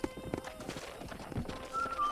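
A horse in the video game Red Dead Redemption clops its hooves faintly in a steady walking rhythm, and a brief high whinny-like call comes in near the end.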